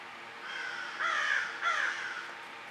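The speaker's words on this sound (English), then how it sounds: "Those crows are obnoxious." Crows caw outdoors: two harsh, distinct caws stand out over a steady background, at moderate distance with no talking.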